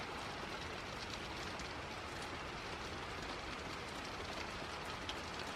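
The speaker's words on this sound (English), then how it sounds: "It was raining." Steady rain falls outdoors during a fall storm with strong wind, a dense, even hiss of drops that holds unbroken from start to finish.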